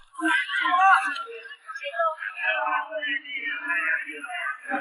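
A woman in a TV drama lets out a sustained, wavering scream that shifts into moaning wails, loud and close, lasting several seconds with brief dips in between.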